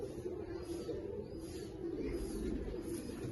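Pigeon cooing softly while held in the hand by a keeper, low throaty coos close by over a steady background rumble.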